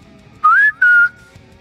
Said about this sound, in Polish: Gwizdnąłem.